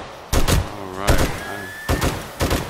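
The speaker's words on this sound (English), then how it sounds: "I know I wasted ammo there, Buffy, but I" Gunfire in the zombie survival game 7 Days to Die, inside a Wal-Cart super center, comes as four loud, close bursts of shots spaced through the stretch with no talking.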